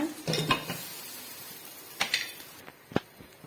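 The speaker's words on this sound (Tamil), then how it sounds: "இப்போ வந்து ஒரு தட்டு போட்டு மூடி வச்சிடலாம்." A few sharp metallic clinks as a plate is set as a lid onto a pot of frying tomatoes, spaced apart, with faint kitchen sizzle underneath.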